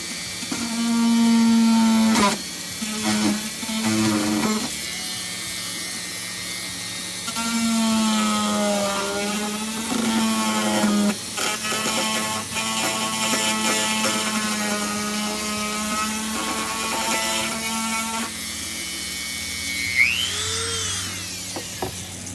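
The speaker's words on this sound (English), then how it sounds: "it is power tools, which I'm always excited about" A power tool whines and bites through material in repeated bursts while making a mobile, its pitch rising and dropping as it cuts, with brief pauses between passes.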